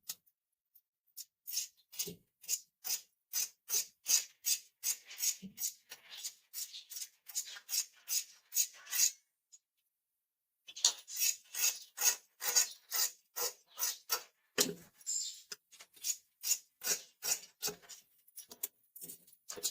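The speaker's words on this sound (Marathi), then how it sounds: "त्यानंतर आपल्याला बाहीची कटिंग करून घ्यायची आहे" Scissors cutting blouse sleeve fabric, heard as close, crisp, rhythmic snips in a long regular series with a short pause partway through, alone and without talk.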